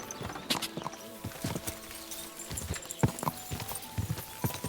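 Horse hooves clip-clop at a steady walking rhythm in Kingdom Come Deliverance 2, close and clear over a faint outdoor game ambience, with a brief soft snort.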